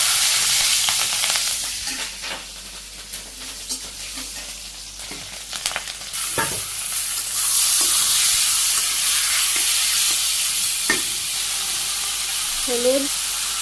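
Cumin, onion and green chili frying in hot oil give a loud, continuous sizzle and hiss, with occasional clinks of a utensil against the pan and a brief voice near the end.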